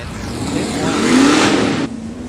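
Drag racing car at Sydney Dragway accelerating hard as the driver gets back on the throttle, a loud rising engine roar that swells and then cuts off sharply.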